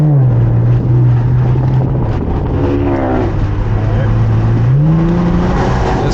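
An Infiniti Q50's engine revs up and settles in a smooth, sustained drone with a couple of rising pitch sweeps, heard from inside the car with people talking over it.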